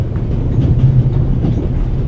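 A video game train rumbles along, its carriage rattling and shaking with a constant low, loud clatter and no voices.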